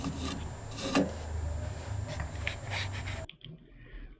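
Wood being hollowed out with a gouge on a lathe for a segmented open bowl, a close, continuous rough scraping and rasping with rhythmic surges, cutting off abruptly into near quiet.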